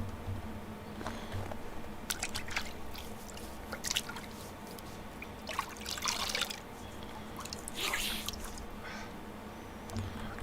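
A character bathing in the Medieval Dynasty video game makes quiet dripping and sloshing water sounds with a few sharper splashy bursts near the end, soft and fairly close, with no voices.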